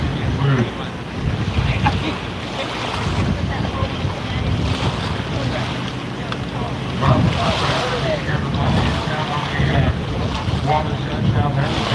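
Engines of personal watercraft drone over water at a jet ski racing event, mixed with splashing waves and heavy wind buffeting the microphone, with voices faintly underneath.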